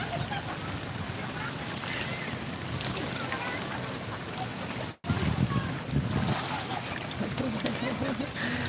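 Ocean surf washing onto Pasir Putih beach in Lampung, a steady broadband roar of small waves and wind that runs through the whole stretch, with people chatting and calling out nearby over it.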